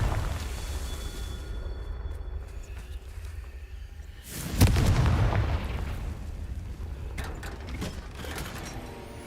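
The Confringo explosion spell goes off in Hogwarts Legacy with a single loud, booming blast midway that decays into a rumbling tail, set against steady game ambience and faint magical chimes.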